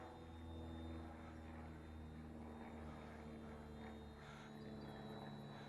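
A Microaces Scrappee biplane RC model flying in a park, its small electric motor giving a steady, distant buzzing drone over outdoor background noise.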